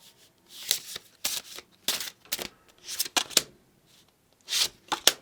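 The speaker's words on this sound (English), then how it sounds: "I never know how to shuffle this deck." A deck of oracle cards is shuffled by hand in close, crisp bursts of riffling and sliding, with brief pauses between the rounds. Nobody speaks.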